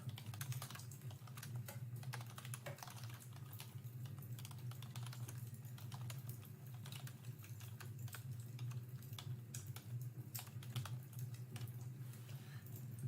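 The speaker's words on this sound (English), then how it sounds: "So let me type it. I'm typing this." Rapid, steady clicking of a computer keyboard being typed on, close and continuous, with a low hum underneath and no speech.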